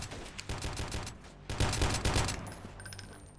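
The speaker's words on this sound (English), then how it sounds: "all I'm doing right now is trying to get some covering fire from my guys" Squad covering fire crackles in the guerrilla warfare video game Freeman Guerrilla Warfare, with rapid overlapping gunshot bursts and volleys coming through fairly quietly and steadily with no talk.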